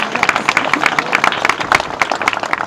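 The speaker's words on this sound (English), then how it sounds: "So please give yourselves a round of applause." Wedding guests break into applause at a marriage ceremony, a dense burst of many hands clapping close by, steady and lively throughout with a faint murmur of the crowd underneath.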